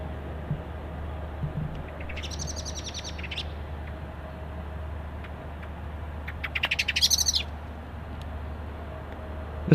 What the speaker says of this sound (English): This bird's making some crazy noises.